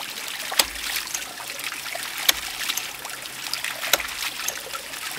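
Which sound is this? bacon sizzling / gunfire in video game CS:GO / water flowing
water flowing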